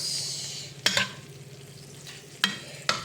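A steak sizzles steadily in a pan as herb and garlic butter is spooned over it, the frying hiss close and soft, broken by three sharp spoon clinks against the pan.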